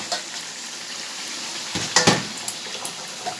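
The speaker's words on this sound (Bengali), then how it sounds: "এবারে মাংসটি দিয়ে দিচ্ছি" Meat pieces drop into spices frying in oil in a pot, giving a soft sizzle with a burst of louder crackling and some clinks of a utensil against the pot.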